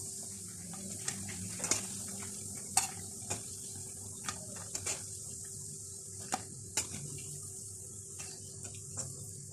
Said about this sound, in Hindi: इसी तरह से तमाम पकौड़े अब फ्राई कर लेते हैं।